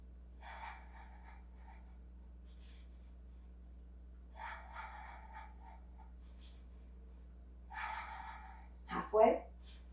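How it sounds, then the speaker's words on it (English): Rhythmic breathing during the Pilates hundreds exercise: soft, airy breaths come in three spaced groups, and a louder exhale near the end stands out against a quiet, humming room. "So you're inhaling for 5 counts and exhaling for 5 counts."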